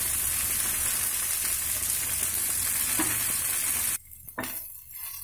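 Coriander, garlic and tomato fry in a pan with a steady loud sizzle for about four seconds, then it briefly quiets with a stir or two before the sizzle returns.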